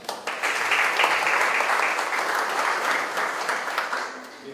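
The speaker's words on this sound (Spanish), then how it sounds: "Lo recibimos con fuertes aplausos." Audience applause welcoming the speaker at a formal legal conference hall, a dense, steady wash of many hands clapping that holds loud throughout and eases slightly toward the end.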